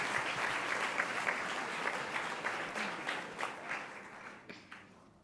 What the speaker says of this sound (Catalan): el podeu aplaudir